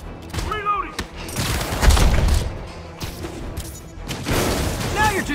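Gunfire from a helicopter during a chase in Marvel's Spider-Man Remastered, with bursts of rapid shots and booms over a churning mechanical roar, and voices calling out between volleys.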